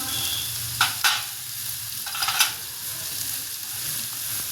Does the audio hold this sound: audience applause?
no